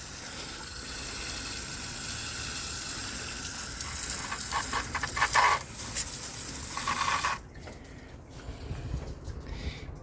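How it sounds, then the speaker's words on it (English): Water sprays from a hose onto a car engine to rinse off spilled coolant during a thermostat and radiator cap replacement, a steady broad hiss with bursts of splashing that cuts off sharply near the end. "You just need to get that coolant off the engine. So I'm gonna spray."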